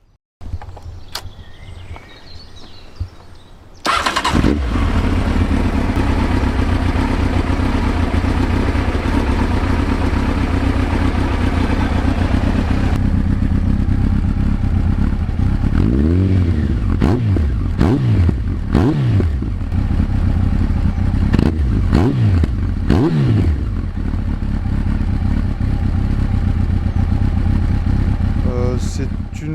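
A 1993 Honda CBR900RR Fireblade sport motorcycle engine idles steadily up close, with a few throttle blips and mechanical clatter over a continuous low rumble.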